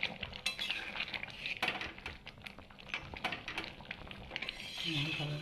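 Dal stirred in a pot after adding garam masala: rapid metal spoon clinks and scrapes against the pot, fairly quiet, with some soft voice in the background.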